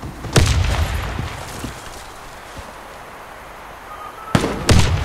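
Two grenade blasts in the Warface shooter game, one early and one near the end of a clan war round, each a loud broadband crack with a booming low tail over a steady game ambience.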